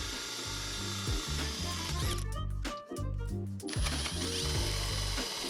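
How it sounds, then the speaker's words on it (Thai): A cordless drill motor buzzes and grinds all the way through wood in pulsing bursts, with a brief dip midway before it bores on, loud and close. "เราได้ลองเจาะให้ทะลุไปอีกด้าน"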